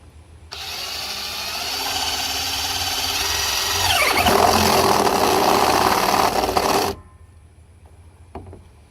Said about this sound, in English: Alright, so we got our hole drilled.